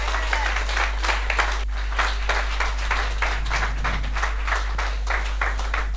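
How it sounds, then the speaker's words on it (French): A church congregation claps together in a steady, rhythmic beat during a worship service, many hands striking at roughly regular intervals, loud and continuous over a low background hum. "Applaudissez-moi Jéhovah."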